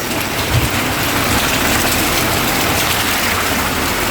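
Steady rain hisses over the town streets of Monopoli in Apulia, with a low rumble of cars moving through the wet roads, a constant dense wash of noise without voices.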